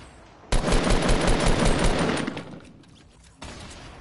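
Rapid automatic gunfire from a console shooter game rattles loudly in a sustained burst that fades, then a second burst cuts in near the end, with no talk over it.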